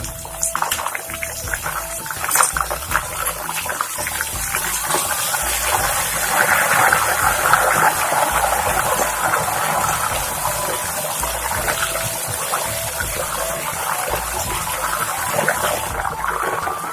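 Salt and turmeric water poured into hot oil where banana chips are frying sets off a loud, rushing hiss that swells and stays dense, with a few sharp bursts early on.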